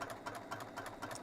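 Sewing machine stitching interfaced bag fabric around a curve, a steady rapid mechanical chatter of needle strokes running continuously at moderate closeness with no talk.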